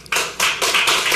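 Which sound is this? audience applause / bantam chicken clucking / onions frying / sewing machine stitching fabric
audience applause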